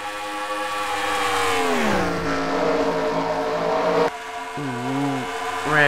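Stock cars in a racing video game roar past one after another, with engine pitches sweeping and dropping as they go by, layered under a race commentator's voice.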